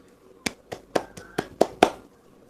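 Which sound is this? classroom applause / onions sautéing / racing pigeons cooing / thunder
classroom applause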